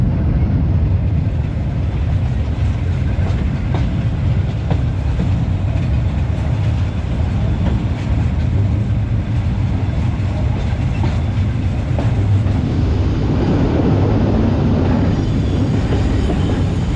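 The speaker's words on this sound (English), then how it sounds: "Finally I caught the Vietnamese cargo train." A Vietnamese cargo train rolls steadily along the line, a continuous loud low rumble of wheels and wagons heard close up from near the locomotive, with faint clattering throughout and no talk.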